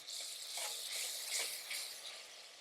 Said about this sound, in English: In goes the ginger and the garlic paste